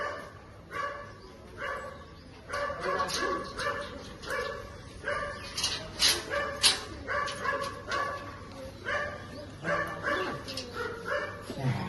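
A female dog barks repeatedly in quick bursts, loud and close, mixed with yips and whimpers, while birds chirp faintly in the background.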